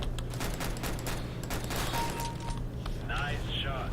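Rapid bursts of gunfire fill a Counter-Strike: Global Offensive match, a dense, continuous fusillade of shots with loud repeated cracks throughout and a voice talking over the din.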